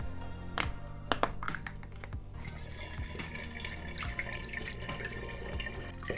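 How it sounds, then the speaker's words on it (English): Apple juice pours through a funnel into a glass carboy for hard cider, a steady splashing, gurgling stream beginning with a few bright clinks and drips, then running continuously at close range with no talk. "now it's time to pop in our funnel, get some apple juice in there,"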